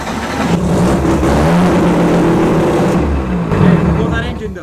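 Mazda RX7 drag car engine revving loudly and steadily, a dense mid-range roar sustained throughout with a brief surge near the end, voices talking over it.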